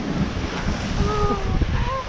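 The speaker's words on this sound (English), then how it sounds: "Waves, wind." Ocean waves and wind at a surf beach of corals and shells in the Philippines, a steady rushing wash of surf with wind noise throughout and faint background sounds.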